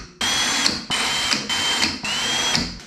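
A power drill bores small indicator holes into a factory metal fuel tank in four short, whining bursts, each starting abruptly and stopping with a brief pause between, close and loud.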